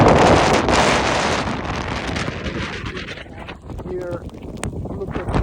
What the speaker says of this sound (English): The wind picked up, they're like shaking me